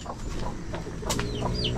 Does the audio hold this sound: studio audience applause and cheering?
no